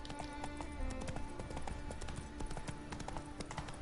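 Hooves of the horse Roach clip-clop at a steady gallop in The Witcher video game, a fast continuous rhythm mixed with game ambience and faint background tones throughout.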